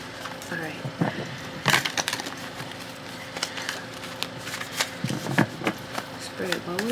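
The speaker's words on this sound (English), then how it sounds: "I'm gonna start by shuffling." Tarot card decks being shuffled by hand, crisp riffling and flicking bursts with soft slides between, close and fairly quiet, with brief breaths or murmurs in the background.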